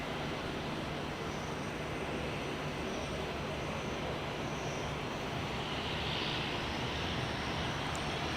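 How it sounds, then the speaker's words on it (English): An Embraer QantasLink jet passes near Sydney Airport, a steady, moderately loud engine rush that holds evenly throughout with no voices. "This one looks like a Embraer Qantas Link."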